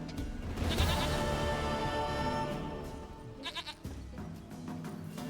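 A goat bleats in The Witcher 3, a long wavering cry near and loud, followed by a few shorter clipped bleats, alone with no voices.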